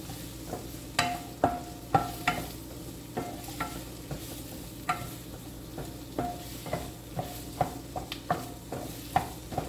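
Green peppers are stirred into a sizzling pan, the utensil knocking and scraping in a steady rhythm of close, distinct clicks over a soft, constant fry.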